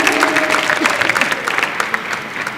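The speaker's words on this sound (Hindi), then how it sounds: "तालियां हो जाए प्लीज" An audience claps at the grand finale of a dance reality show, with brisk, fairly close applause that tapers off toward the end.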